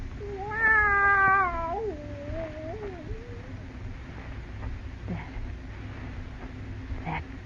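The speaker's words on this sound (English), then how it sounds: "That cat." A cat lets out one drawn-out, wavering yowl that rises and falls, then trails off into a quiet room with faint background noise.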